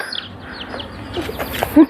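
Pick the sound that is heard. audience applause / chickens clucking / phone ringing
chickens clucking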